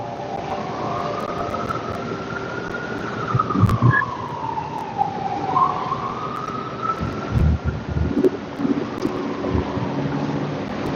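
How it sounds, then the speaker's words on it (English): A siren wails in a slow rising and falling sweep at moderate distance, over low rumbling traffic noise with occasional thumps. "I hear more sirens coming."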